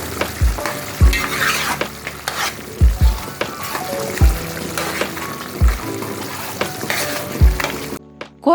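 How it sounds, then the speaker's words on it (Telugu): Masala paste, ground in a mixer, is stirred into a simmering Andhra-style mutton curry in a pan: a steady close sizzle with a spoon scraping and thumping against the pan every second or so. "కూర దగ్గరకు వచ్చాక మిక్సీ పట్టుకున్న మసాలా పేస్ట్ వేసి కలుపుకోవాలి"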